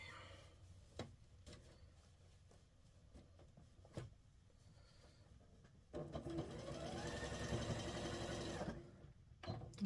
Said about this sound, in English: fold it the other direction, and sew it that way